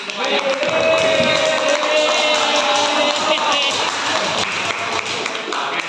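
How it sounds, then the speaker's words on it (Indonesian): Classroom applause from students during a teaching practice lesson, a sustained burst of many hands clapping loudly for several seconds amid some crowd noise and voices. "Ya, oke, tepuk tangan."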